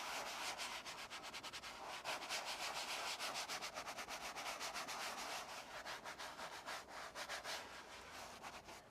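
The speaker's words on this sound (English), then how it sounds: "The headrest is where a lot of grease and body oils accumulate," Steady rhythmic rubbing as a cloth wipes a leather car seat headrest with leather cleaner, close and continuous strokes with no talking.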